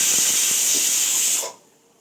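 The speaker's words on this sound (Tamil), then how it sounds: "இதுலேயும் குக்கர் அடிக்க ஆரம்பிச்சிருச்சு ரெண்டு விசில் அடிச்சிருச்சு" A pressure cooker releases steam in a loud, steady hiss close by, which cuts off abruptly after about a second and a half, leaving near silence.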